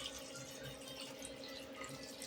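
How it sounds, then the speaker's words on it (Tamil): Water is poured into a pot of potato and green peas curry, a faint, continuous liquid splash and trickle heard alone and fairly quiet. "இப்போ வந்துட்டு தண்ணி ஆட் பண்ணிக்கலாம்."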